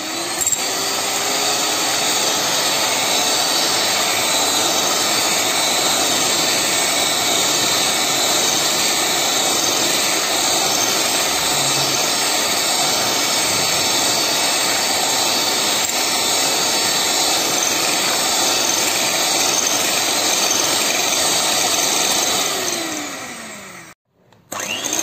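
Double electric blender whipping cream for chocobar ice cream, a steady loud motor whine running unbroken for about twenty-four seconds before cutting off abruptly.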